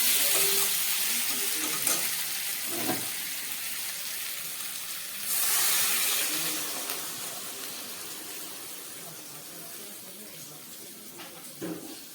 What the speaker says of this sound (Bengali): এবার আমি এর মধ্যে দিয়ে দেব গরম জল।